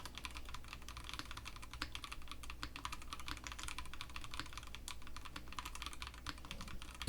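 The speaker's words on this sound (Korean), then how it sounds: "요걸로 한번 타건 한번 해볼게요." Steady, rapid typing on a Redbean A1 mini mechanical keyboard, close up, with continuous muted clacks of keys and no voices.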